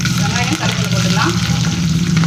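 Onions and curry leaves fry vigorously in hot oil after mustard seeds, fenugreek and cumin have popped. A loud, steady, close sizzle continues without pause.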